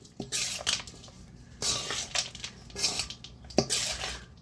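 Pasta salad with peas and corn being stirred in a bowl, with scraping utensil strokes, soft squishing and clinks coming in bursts separated by brief pauses, close and moderately loud.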